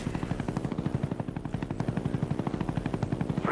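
A chopper gunner helicopter in a video game thrums with a fast, steady rotor beat, loud and continuous throughout, with no voices over it.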